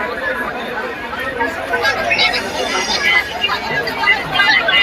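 Crowd chatter at the Jath Yallama yatra fair, with many voices merging into a steady, close-by babble across the whole stretch.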